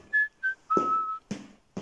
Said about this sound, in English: As you march to your desk, whistling a happy tune.